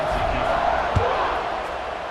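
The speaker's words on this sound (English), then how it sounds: "this crowd is buzzing after that last score" A stadium crowd buzzing in EA Sports College Football 26 during a fourth-quarter kickoff, a broad steady roar with one brief thump, heard under a commentator's talk.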